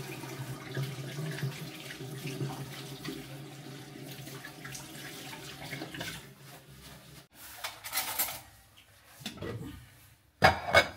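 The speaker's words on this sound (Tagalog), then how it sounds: "Hugas lang ako ng kamay." Tap water runs into a sink while someone washes their hands in a home kitchen, a steady soft stream at close range. Toward the end it breaks into splashes and handling noises, followed by a brief sharp clatter.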